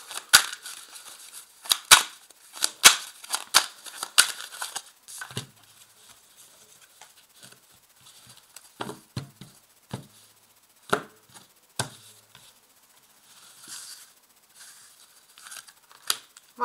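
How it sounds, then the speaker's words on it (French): Deck of cards being shuffled and a single card drawn, a close series of sharp snaps, riffles and slides, busier at first and then sparser with quiet gaps. "Voilà, j'ai tiré une seule carte"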